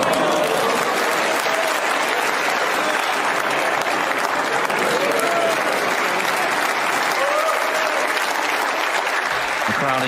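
A snooker crowd at the 2023 English Open applauds a shot in a sustained, dense burst of clapping that fills the hall steadily for about ten seconds, with faint voices mixed in.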